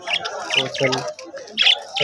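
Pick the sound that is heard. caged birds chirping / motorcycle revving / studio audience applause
caged birds chirping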